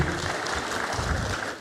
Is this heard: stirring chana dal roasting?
no